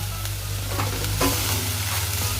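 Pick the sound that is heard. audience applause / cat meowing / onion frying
onion frying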